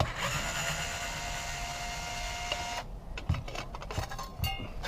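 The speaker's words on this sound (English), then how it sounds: "this is when I find this Black & Decker little handheld screwdriver really invaluable" A small Black & Decker handheld electric screwdriver whirs steadily as it backs Torx screws out of a wireless access point, then stops, followed by light clicks and handling noises.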